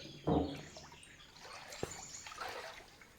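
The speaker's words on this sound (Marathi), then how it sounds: "इथे पाणी भरायला आलेलो आहोत" Water trickling and pouring into a bottle at an outdoor spring or tap in a Malvan village in Konkan, a soft steady stream lasting a few seconds, with a brief louder burst near the start and a faint bird call in the background.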